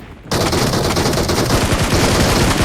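Rapid automatic gunfire from a PUBG Mobile match bursts in loud and close after a brief quiet start, continuing in a dense, unbroken rattle.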